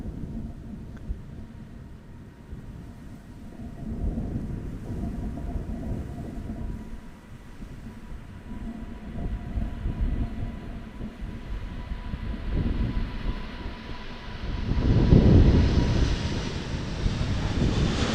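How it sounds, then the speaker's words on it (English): An Emirates Airbus A380 taking off at full throttle from runway 36L at Amsterdam Schiphol gives a deep, rumbling engine roar that builds in waves and peaks near the end, heard from a distance. "Departing here from runway 36 left, full throttle. Emirates A380 heading for Dubai."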